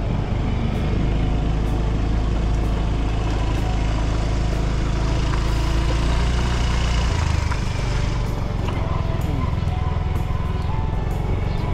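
A motorcycle engine drones steadily and close throughout a ride with a passenger on back, leaving a subdivision, with a continuous low rumble and wind-like noise and a slight shift in tone partway through.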